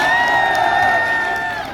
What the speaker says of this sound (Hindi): एक बार जोरदार ताली से स्वागत करें।